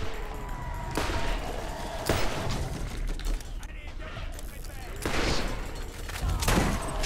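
Bursts of Borderlands gunfire crack out repeatedly over a busy, noisy background, with several sharp shots spaced a second or two apart.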